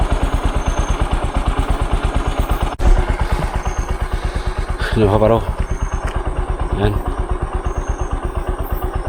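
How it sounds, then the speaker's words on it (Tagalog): A motorcycle left running at idle, its engine chugging in a steady close rhythm with one brief clunk, while someone talks briefly over it. "Yung motor ko hindi ko napatay niyan."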